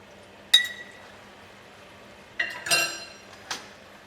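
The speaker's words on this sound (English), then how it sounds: "We're going to give it a stir." A utensil clinks against a pot a few times while cornstarch slurry is stirred into a simmering sweet and sour sauce, with short scraping and liquid sounds between quiet pauses.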